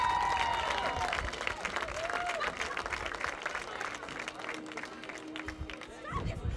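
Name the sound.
applause for all-conference winners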